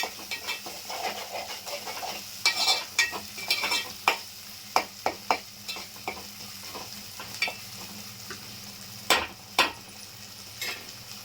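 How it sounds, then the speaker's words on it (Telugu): Chopped tomato with ginger-garlic paste stirred and cooked in a pan for chicken egg gravy, a steady sizzle under repeated scraping, clacking strokes of a spoon against the pan, close and moderately loud, with no talking. "దాన్ని కూడా బాగా కలుపుకొని టమాటా కొంచెం మెత్తబడేంత వరకు ఉడికించుకుందాం"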